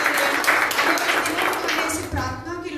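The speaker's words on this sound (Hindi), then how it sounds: "तो जोर से ताली बजाएंगे हमारे भाई के लिए" A congregation at a prayer meeting applauds loudly, a sustained dense patter of many hands clapping nearby that thins toward the end, with some voices mixed in.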